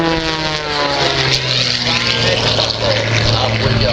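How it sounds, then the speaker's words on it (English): An MXS aerobatic airplane's engine and propeller drone loudly during an air show, a buzzing tone that shifts in pitch as the plane tumbles and maneuvers. "MXS airplane. The inside tumble."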